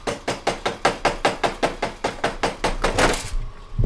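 A special round hammer strikes stainless steel in a workshop, about sixteen quick, evenly spaced metallic blows ringing close and loud, the rhythm speeding slightly toward the end before stopping.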